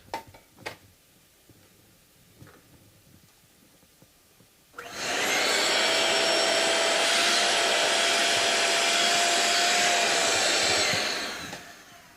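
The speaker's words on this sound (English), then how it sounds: "I also have a vacuum cleaner right here, which I'm about to use." A vacuum cleaner switches on during fingerboard planing on a Martin HD-28 guitar after a few quiet seconds with faint clicks, then roars steadily and loudly with a broad whooshing hum until it stops.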